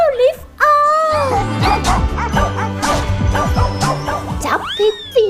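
A dog bow-wows and yips repeatedly at close range, its barks and whimpers running through a busy, loud mix with music and voices throughout.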